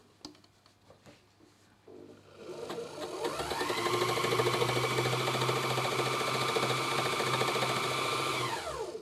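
An embellishing machine dry needle felting fabric winds up after a few light clicks into a loud, steady mechanical whir and rapid needle chatter, close and continuous before slowing at the end.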